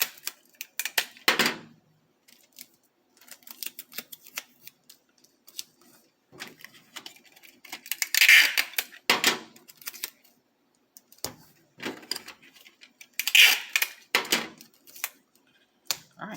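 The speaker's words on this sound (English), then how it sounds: "So now I'm just taping the wax paper." Strips of tape being torn and pressed down to hold wax paper in place for a DIY sticker craft, heard as scattered crackling rips and pats in bursts, close by, with no talking.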